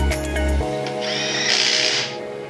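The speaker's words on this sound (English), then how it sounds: "Mount the screws on the cylinder cover." A power driver fastening screws on the cylinder cover of a BOCK compressor during a valve plate change, a loud close whirring run of about two seconds that rises in pitch partway through.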